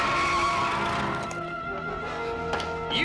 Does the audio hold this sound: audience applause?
no